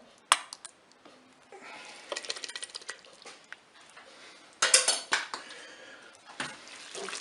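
Zucchini spaghetti is stirred with mustard in a Cookeo multicooker, with irregular utensil clicks and scrapes against the pot, clustering in quick bursts around the middle and later, close and moderately loud with no voices.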